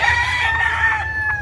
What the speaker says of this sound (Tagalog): Maganda yung mga manok nila.